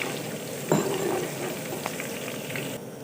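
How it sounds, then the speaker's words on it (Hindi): Ginger garlic paste frying with browning onions for vegetable pulao, a steady close sizzle with a brief scrape of stirring near the start, continuous and moderately loud, no voices. "अब मैं इसमें अदरक लहसुन का पेस्ट शामिल कर दूंगी ताकि ये भी फ्राई हो जाए"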